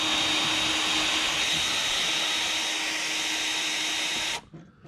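A power drill whines at a steady, loud pitch as it bores continuously through stainless steel with a small bit at slow speed, using oil, then cuts off abruptly near the end, leaving quiet.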